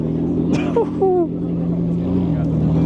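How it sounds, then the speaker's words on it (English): A McLaren race car's 4-liter Cosworth engine drones at a steady, low pitch, with a brief rising rev early on and crowd voices mixed into the loud noise. "What a noise though from that 4-liter Cosworth engine."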